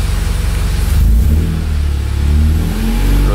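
An engine swapped into a Honda Accord (CB7/Maestro) is revved slowly to about 2500 rpm, a steady mid-pitched rising drone close by that holds and swells without talk.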